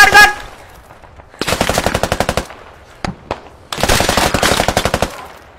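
Automatic gunfire in the shooter game PewPew Squad: two long, loud rapid-fire bursts separated by a couple of single shots and short pauses, close and punchy, with no talk over them.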